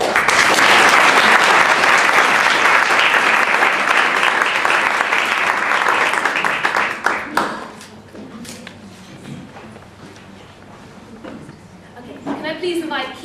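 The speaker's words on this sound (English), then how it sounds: "So please join me in a round of applause before we start the honours process." A crowd at a newspaper launch event gives a loud, dense round of applause that fades out after about seven seconds. Scattered claps and murmured talk follow.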